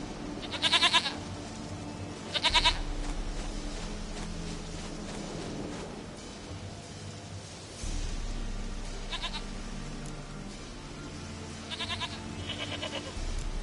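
Goat bleats from the Witcher 3 video game, a few short wavering cries spaced apart over a low musical and ambient game background, with no talk.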